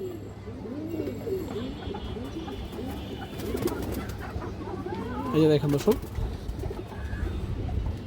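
Pigeons coo in soft repeated phrases around caged fancy pigeons, including a purple-footed female, while someone talks steadily over them in a close indoor setting.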